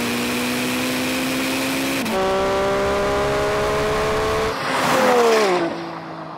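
A Lamborghini Revuelto's engine holds a steady high drone, then revs up sharply as it launches in a drag race, pitch climbing and falling through gear changes, loud and close.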